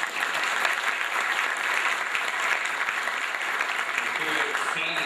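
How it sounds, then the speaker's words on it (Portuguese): Audience at an inauguration ceremony gives a dense, continuous round of applause for newly elected officials, the clapping even and sustained from start to finish. "Eu gostaria de uma salva de palmas"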